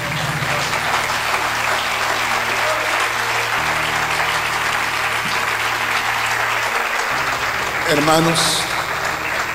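Church congregation applauding at a Spanish-language service, a loud, steady wash of clapping lasting throughout, with a voice talking over it and some low musical tones underneath.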